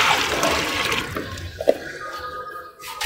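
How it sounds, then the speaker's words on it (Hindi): Water gushes into a large pot of biryani masala, a loud rushing pour that tapers off over a few seconds. "हमारा जो है मसाला जात सारा पानी हमने डाल दिया है।"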